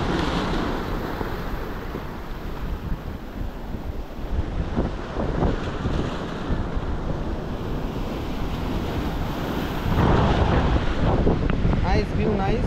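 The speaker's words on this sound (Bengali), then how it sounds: "ও সমুদ্রের উচ্ছ্বাস করা ঢেউ জাস্ট পাগল করে দিচ্ছে আমায়" Sea waves surge onto the shore at Digha while strong wind buffets the microphone. The roar swells louder toward the end, and voices are faintly audible under the surf.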